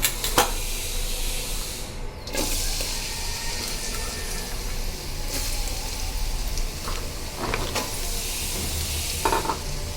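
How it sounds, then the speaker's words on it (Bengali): Onion and garlic fry in hot oil in a pan, a steady close sizzle running throughout with occasional stirring scrapes and brief crackles, no talking. "তেল দিয়ে দিলাম এখন দিয়ে দিব পেঁয়াজ আর রসুন"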